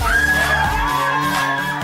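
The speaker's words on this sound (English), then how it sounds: "The thing with these girls is they just love screaming." A group of sorority girls screaming together, high shrill voices holding long, loud cries that swell and overlap without a break, close and crowded.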